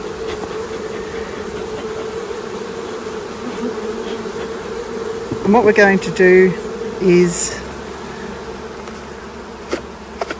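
A steady insect buzz of honey bees in a yogurt container hums throughout, with someone speaking over it midway and a few light knocks near the end.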